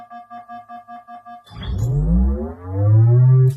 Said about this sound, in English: Let's import the shield sound.